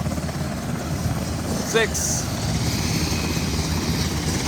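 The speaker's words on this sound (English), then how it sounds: "just over to the other side, you'll see another helicopter" A Virginia State Police helicopter beating steadily overhead at a flooded hospital rooftop rescue, a continuous loud rotor drone filling the scene while someone talks over it.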